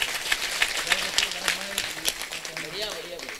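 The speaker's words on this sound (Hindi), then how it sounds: "मैं चाहता हूं इसके सम्मान में जोरदार ताली बजाएं।" Applause and clapping at a Hindi comedy poetry gathering honoring a young poet, dense and steady across the clip, with voices and chatter mixed in beneath it.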